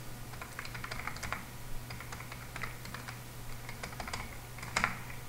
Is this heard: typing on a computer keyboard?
yes